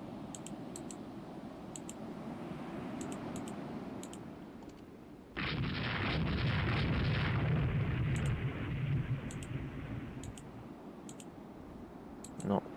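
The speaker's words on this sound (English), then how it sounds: "Yatagana's hit by a torpedo." A torpedo strikes a warship in the naval strategy game Rule the Waves 2, with a sudden loud, broad rumbling blast that sustains for several seconds over steady background noise and faint clicks.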